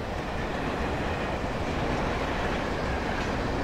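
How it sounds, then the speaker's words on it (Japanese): A train rolls past in the video game Alan Wake, a steady, dense rumble with a faint clatter of wagons that holds loud and even throughout, with no voices over it. "列車か、車じゃない。"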